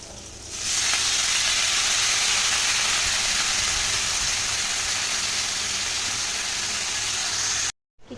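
Washed, chopped spinach hits a hot pan and erupts into a loud, sustained sizzle that starts abruptly and holds steady before cutting off near the end.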